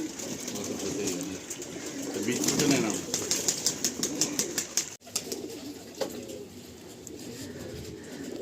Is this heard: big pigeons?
yes